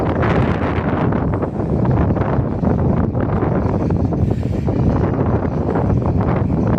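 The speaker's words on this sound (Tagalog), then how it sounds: "Pasensya na kayo sa hangin, guys. Hangin eh." Heavy wind on a coastal road in Davao City buffets the microphone with a constant low roar and rumble for the whole stretch, covering everything else.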